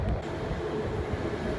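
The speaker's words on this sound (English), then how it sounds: "I think that is that's another V-Line train about to pass through platform 1 on a Southern Cross service." V-Line train passing through platform 1 on a Southern Cross service, a steady loud rumble of wheels and carriages rolling close by.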